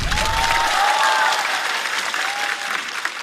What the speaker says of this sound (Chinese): 再次掌声送给 Harry